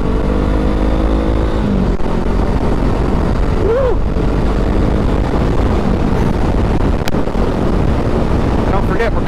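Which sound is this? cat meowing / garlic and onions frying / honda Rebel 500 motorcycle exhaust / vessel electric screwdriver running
honda Rebel 500 motorcycle exhaust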